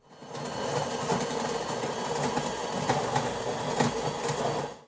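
A bean-to-cup coffee machine's pump gives a steady mechanical whirring and buzzing throughout at moderate volume, droning continuously without pause.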